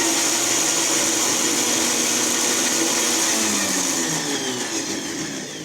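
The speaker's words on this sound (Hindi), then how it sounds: "इसको अच्छी तरह से ब्लेंड कर लिया है" A kitchen blender runs loud and continuous, whirring through a homemade shawarma sauce, its motor pitch steady with a slight sag toward the end.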